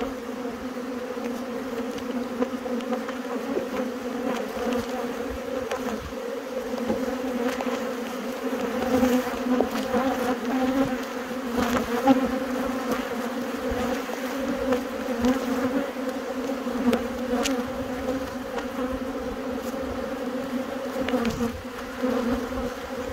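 A dense hive of honeybees on Dartmoor in August hums constantly, a close, full buzz of many insects that holds steady throughout with no voices.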